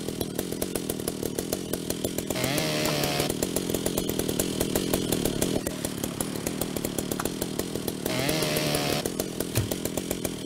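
A saw cuts through material in the video game Ship Graveyard Simulator. The strokes rasp in a fast, steady rhythm, with two louder grinding bursts over the continuous buzz.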